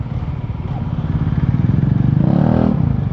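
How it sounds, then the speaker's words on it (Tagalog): A Benelli 502C motorcycle engine runs close by with a steady, throbbing rumble that swells in a brief rev near the end, heard alone without talk. "ang ingay na motor mo"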